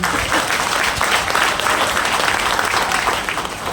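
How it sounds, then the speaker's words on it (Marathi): Audience applause at a seminar-style gathering, dense continuous clapping from a crowd that stays loud throughout and eases slightly at the end. "माझे जे गुरु आहेत प्रदीप पालोदे सर, यांच्यासाठी टाळ्या उद्या."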